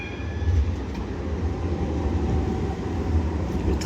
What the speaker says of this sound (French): Le tram qui passe.